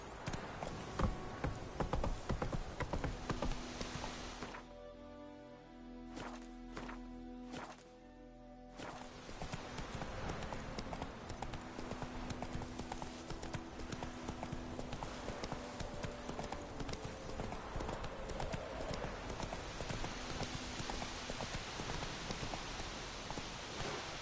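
Roach, the horse in The Witcher 3, gallops with steady, rapid hoof clip-clops over rain-like ambient noise, which drops off briefly partway through before the hoofbeats pick up again, fairly near and continuous.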